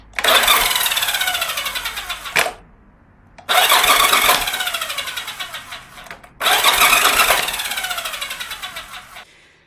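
Starter motor cranking the engine of a Yamaha Virago XV second-generation motorcycle with a starter clutch failure: three loud, close whirring bursts of a few seconds each, separated by short silences, with the engine never catching.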